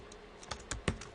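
A few quick, soft keystrokes on a computer keyboard while code is copied and pasted, faint clicks close to the microphone.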